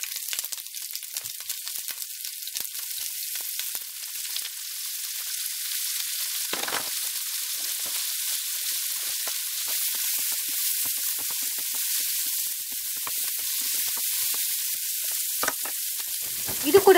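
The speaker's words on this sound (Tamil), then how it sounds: "இப்போ இதில் நான் வெங்காயத்தை சேர்த்து அது நல்லா வதக்கி எடுத்துக்க போகிறேன்." Onions sauté in a few spoonfuls of oil in a pan, giving off a strong, bright, continuous sizzle that barely wavers, with a couple of brief stirring scrapes and a soft knock at the very end.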